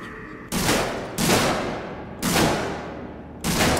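Four loud, separate gunshots in the survival horror game Alien Isolation, each sharp blast trailing off over about half a second, spaced irregularly with quiet between.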